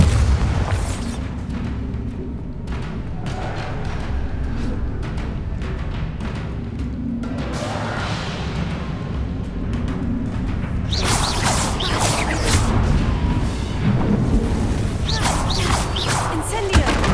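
Bombarda blasting spell from Hogwarts Legacy booms out in heavy explosions, one early and a larger, longer crash later, with rumbling debris between the blasts and game sounds underneath.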